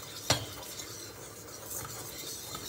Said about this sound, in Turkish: Önce az bir yağ boşaltıyoruz. Tabii bu aşamada altı kısık olacak. Unu bir karıştıracağız.